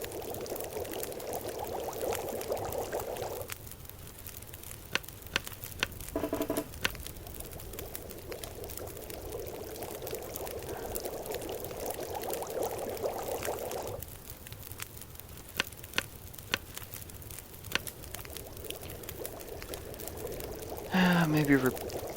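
Water pouring steadily in The Long Dark survival game, a continuous splashing stream that stops briefly and resumes, close and moderately loud, with short clicks between.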